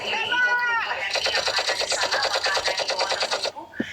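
Rapid automatic gunfire from a Roblox game, a steady stream of evenly spaced shots lasting about three seconds, following a brief burst of other game sounds and ending abruptly.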